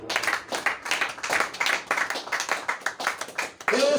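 Church congregation at a Sunday service clapping in acclaim, rhythmic loud claps repeating steadily for several seconds with voices mixed underneath.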